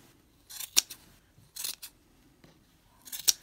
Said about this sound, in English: And then you're just going to trim around the edges and trim your pom-pom up